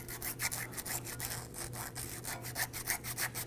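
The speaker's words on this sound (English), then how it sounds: "Now I'm just using a little bit of sandpaper here to go ahead and clean the surface." Sandpaper, 120 grit, rubbed by hand over the metal ball joint bore surface on a 2003-2014 Volvo XC90's front suspension, giving a steady series of rasping back-and-forth scrubbing strokes, close and fairly quiet, with no talking.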